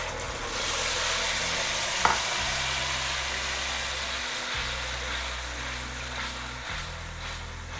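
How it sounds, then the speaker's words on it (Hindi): Tomato, green chili and ginger mixture frying in oil, cooked in bulk for a communal feast, gives off a steady, close sizzle that runs without a break. A single sharp clink sounds partway through. "अब टमाटर को तेल छोड़ने तक पकाएंगे।"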